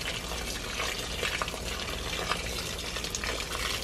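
Low-pressure water rinses through a K&N air filter and drains out the bottom, a continuous close splashing hiss with no pauses.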